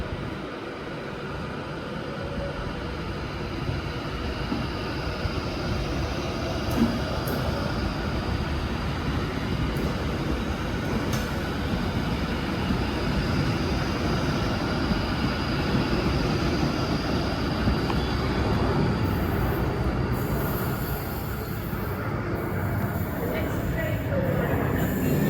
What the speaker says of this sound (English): Train now departing is a 390 going to London Euston.